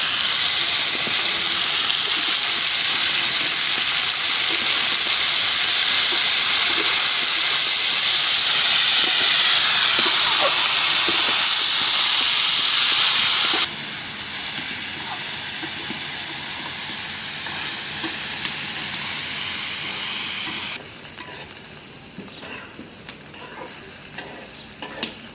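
Bitter gourd frying in hot oil with onion and chili, a loud continuous hissing sizzle that drops abruptly to a softer crackle partway through, then quieter still, close and steady.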